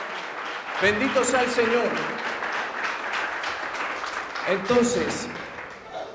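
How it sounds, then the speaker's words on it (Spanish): Congregation applause fills an evangelical church service, a steady crowd roar running the whole time while a preacher speaks over it in Spanish. "Espero que ese aplauso haya sido para Dios, no para mí"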